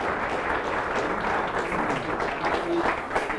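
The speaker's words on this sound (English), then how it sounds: "Let's give him a round of applause." Republican club audience applauding the county council president as he comes forward, a continuous moderate wash of clapping with some voices and cheering mixed in.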